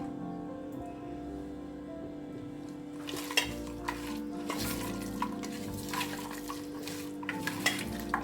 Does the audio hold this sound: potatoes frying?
yes